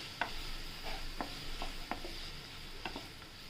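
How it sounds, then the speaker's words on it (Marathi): Chopped onions, two large ones, sauté in hot oil in a pan for a spinach, potato and green pea dry vegetable dish. A soft steady sizzle runs under sharp scrapes and clinks as a spoon stirs them, with no voices. "आता आपण तेल तापत ठेवलं आहे. कांदा टाकूया."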